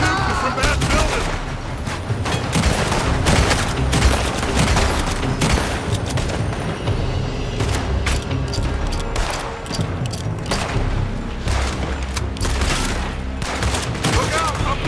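Heavy gunfire in Red Dead Redemption, a dense fusillade of rapid shots cracking from a nearby building, continuous and loud throughout, with voices occasionally calling out over the shooting.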